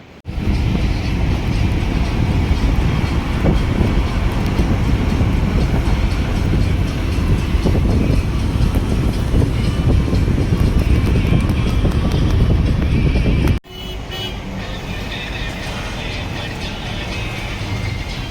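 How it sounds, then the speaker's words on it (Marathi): A passenger train pulling out of a platform on a morning run, heard from inside as a loud, continuous rumble and rattle of wheels with wind, dropping abruptly to a quieter steady roar. "आता आमची ट्रेन फायनली प्लॅटफॉर्मवर निघाली आहे आणि आमचा प्रवास सुरू झालेला आहे"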